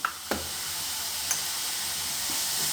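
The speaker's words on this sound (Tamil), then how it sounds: "இந்த இஞ்சி பூண்டு அந்த பச்சை வாசம் போகிற வரைக்கும் நம்ம கிளறி விட்டுக்கலாம்" Ginger garlic paste and onions sizzle in a hot pan with a steady broad hiss, broken by a few sharp knocks of a spoon stirring, with no voices.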